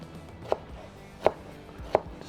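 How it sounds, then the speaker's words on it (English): A knife chops vegetables on a cutting board with three sharp, close, evenly spaced thuds over a quiet background. "Just going to chop these up."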